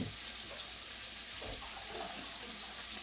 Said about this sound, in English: I just put a little bit of cold water on that so I can get it on out of there